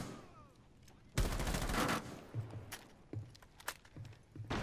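Gunshots in Rainbow Six Siege: a sharp burst of several rapid shots followed by scattered single cracks and thuds, fairly close, with faint footsteps between them and no talk.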